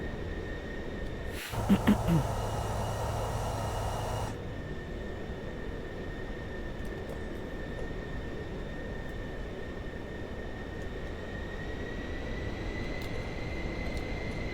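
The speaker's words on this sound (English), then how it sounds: "Beautiful sound of jet engines." Pilatus PC-24 business jet engines idling during taxi in Microsoft Flight Simulator 2024, a steady whining hum with a high tone held throughout, briefly overlaid by a louder rumbling burst near the start.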